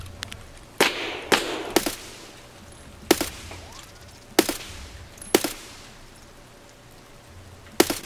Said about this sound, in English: I don't know what he's shooting me with,